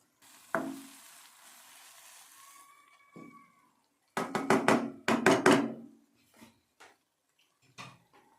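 Egg poured over eggplant bharta cooking in homemade butter sets off a brief soft sizzle that fades, followed by a few sharp clattering knocks of a pan or lid.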